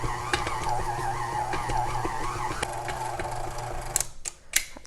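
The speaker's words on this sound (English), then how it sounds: "I'm just going to turn this on slowly and let it mix" Stand mixer with a paddle slowly mixing pink velvet cookie dough, a continuous whirring motor hum with slight rhythmic wobble for about four seconds, ending with a few knocks and clatters.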